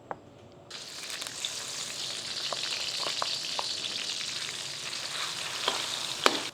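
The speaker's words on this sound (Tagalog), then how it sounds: "Sunod natin gagawin, magigisa naman tayo ng bawang." Garlic sautéing in oil in a pan for lomi, a steady close sizzle of frying with scattered sharp ticks and scrapes of stirring, no talk.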